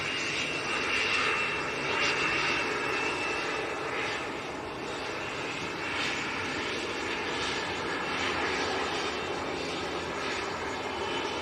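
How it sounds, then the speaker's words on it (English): Engines of a Cessna Citation 560 business jet at Manchester Airport roar steadily for the whole stretch, a broad even rushing drone with a thin whine on top, moderately loud and without voices. "Cessna Citation 560"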